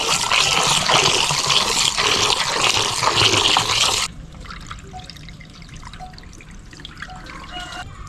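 Tap water runs loudly over chopped chicken being washed for a Kerala chicken curry, then cuts off after about four seconds, leaving faint drips and handling sounds close by.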